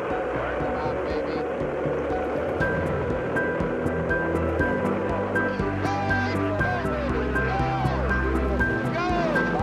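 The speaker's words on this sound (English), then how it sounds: "We've gone for main engine start. We have main engine start." Space shuttle Columbia's main engines roar at launch in a steady, loud broadband rumble that holds throughout, with voices talking over it.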